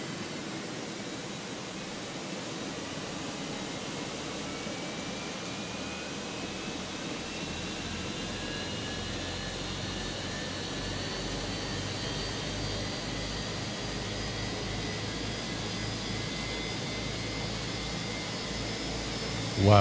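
Airbus A320 jet engine spooling up in the Fenix flight simulator, a steady faint whine with a low rumble that holds for about twenty seconds and rises gradually in pitch.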